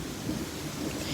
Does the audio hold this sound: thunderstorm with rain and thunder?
yes